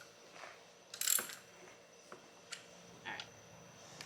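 Ratchet tightening bolts on a ported Jokerz supercharger fitted to a 5th-gen Camaro SS: a few faint, scattered clicks and one louder burst of ratcheting, close by in a quiet garage.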